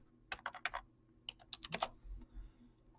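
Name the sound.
typing a coin date and mint into Google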